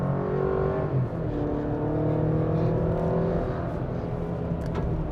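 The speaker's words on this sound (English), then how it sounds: "So I'm gonna hold the brake, hit the gas, let it spool," A 2023 Chevrolet Colorado ZR2 pickup truck launches hard from a standstill after the brakes are held, its engine note climbing steadily in a loud, continuous rising drone heard up close, with no speech.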